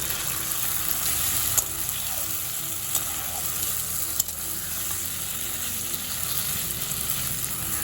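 Chopped tomatoes and peas frying in a pan, a dense continuous sizzle with a few faint clicks of stirring, close and fairly loud, with no voices.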